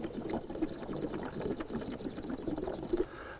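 DEF fluid pours from a nozzled jug into the tank of a diesel Revel Sprinter van, a steady, faint gurgling trickle that runs unbroken for a few seconds.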